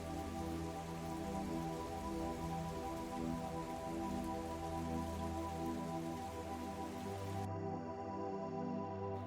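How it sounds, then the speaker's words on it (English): Steady rain patters across a surface as background ambience in a Dungeon Crawl Classics tabletop role-play session, continuous and fairly loud with no talk over it; the upper hiss drops away near the end as it fades. "The sound of rain and thunder fades as you go into the bowels of this place."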